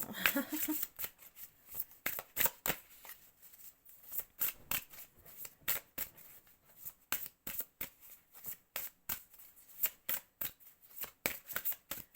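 Tarot cards being shuffled by hand, a long run of crisp riffling bursts and soft slaps repeating in an irregular rhythm, close and fairly quiet, with no talking.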